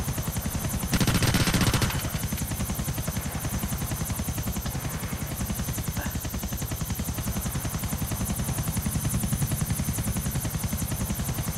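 An aircraft flies in the video game GTA IV, with a steady loud rotor-like chop running throughout and a brief louder burst near the start.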